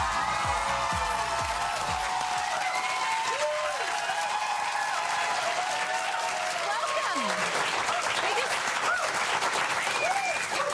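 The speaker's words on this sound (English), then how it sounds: "Let them finish their applause." Sustained applause from a television studio audience greeting Nicki Minaj as she walks on, dense and steady throughout, with scattered whoops and cheers rising over the clapping.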